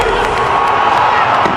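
A big crowd cheers at the IPL cricket final, where the team in purple has beaten Sunrisers Hyderabad in a one-sided match, a steady loud roar with scattered shouts lasting the whole moment.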